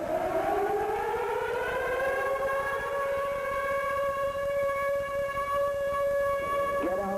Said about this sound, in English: It took an agonizing 14 minutes before the sirens finally sounded.